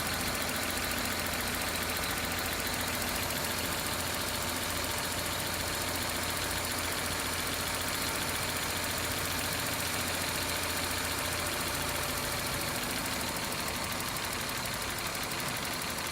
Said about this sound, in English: idle's definitely getting lower.